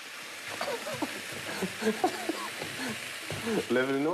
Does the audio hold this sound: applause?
no